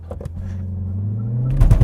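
A 2025 Mini Cooper JCW launches hard from a standstill, its engine note climbing in a steady low rumble that swells louder toward the end as the car pulls away.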